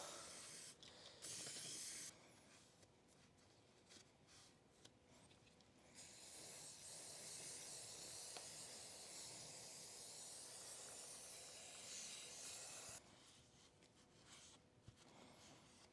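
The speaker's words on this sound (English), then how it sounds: "just spray some brake cleaner in there" Brake cleaner sprays from an aerosol can in long hissing bursts into a Honda Foreman 450ES ATV engine, with a short spray at the start, a sustained blast through the middle, and quiet pauses between.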